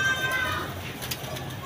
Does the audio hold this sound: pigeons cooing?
yes